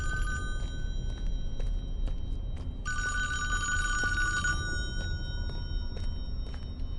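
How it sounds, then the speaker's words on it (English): A landline telephone rings inside the Friday the 13th Virtual Cabin video game. Faint rings come first, then a louder, clearer burst of ringing over a quiet, hollow room tone. "the phone's ringing down here again."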